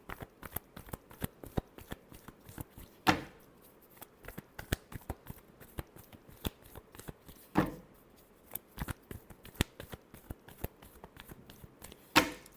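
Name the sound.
shuffling tarot cards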